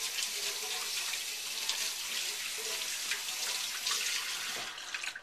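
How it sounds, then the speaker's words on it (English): Water runs steadily from a kitchen tap for a quick rinse while cooking country fried steak, a continuous close hiss that lasts throughout and tapers at the very end. "And then I'm going to do a quick rinse real quick."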